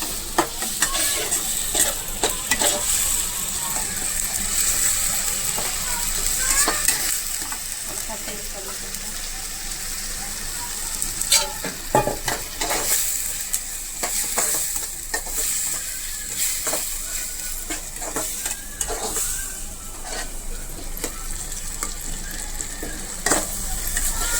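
Okra (bhindi) cooks in a pan with ginger-tomato gravy and is stirred, giving a continuous close sizzle broken by repeated scraping clicks of the spoon for the whole stretch.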